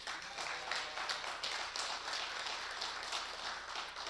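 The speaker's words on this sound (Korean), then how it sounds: "좀 박수 한번 치세요" A congregation at a Saturday church gathering claps together, a faint but steady patter of many hands lasting about four seconds, distant and without talk.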